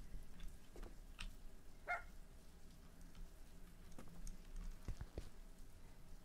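A dog in the game Clean Dishes Simulator barks in a few faint, scattered yips with quiet clicks between them.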